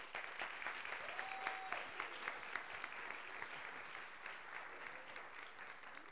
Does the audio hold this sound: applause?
yes